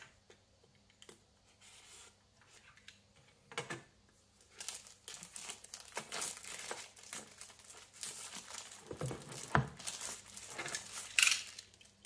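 Packaging for Realme Buds Air 2 earbuds is opened up close, with crinkling plastic, tearing and scraping cardboard in irregular bursts growing busier toward the end, without talk.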